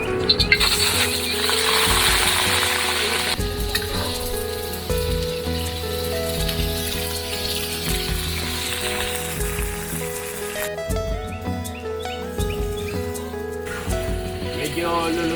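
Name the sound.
chicken liver and toppings frying in a hot pan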